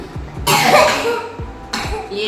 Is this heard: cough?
yes